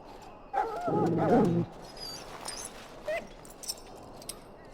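A dog in a fantasy role-playing game whimpers and yips in a short burst of high, wavering cries, followed by a few quieter whines and soft sounds, heard up close with no talking.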